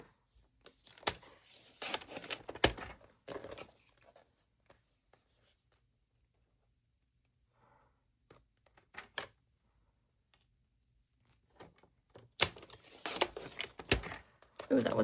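Scissors cut paper card for a Valentine's Day spinner card, making crisp snipping and rustling sounds in irregular close bursts, separated by a long near-silent stretch.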